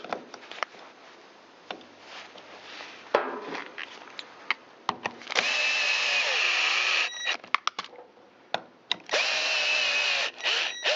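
Power tool driving screws into the cylinder of a Stihl MS193T chainsaw, giving short bursts and then two longer, steady whirring runs, close and fairly quiet, with clicks and handling noises between them.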